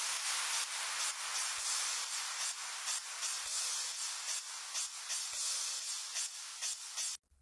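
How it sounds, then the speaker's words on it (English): An 8-bar crash cymbal loop in a dance track, a dense wash of bright white-noise-like cymbal hits repeating in a steady rhythm, loud and continuous with no voices, cutting off abruptly at the end. "So here we have an 8-bar crash loop, it sounds like this."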